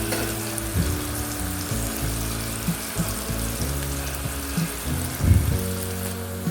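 Onions sizzle steadily in hot oil for a coconut mackerel curry, a loud continuous frying hiss with occasional bursts of stirring and crackle.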